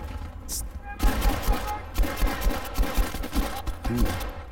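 Rapid gunfire from a weapon in the World War II shooter Battlefield V, a dense stream of shots with booming low thumps over battle noise, with a voice talking throughout.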